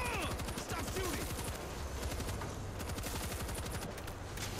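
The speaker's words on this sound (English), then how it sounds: "Use machine gun." Machine gun fire in the World War Z zombie shooter, rapid continuous bursts rattling loudly over a dense battle din, with voices talking over it.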